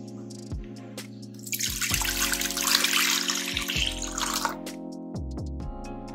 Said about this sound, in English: Plain water.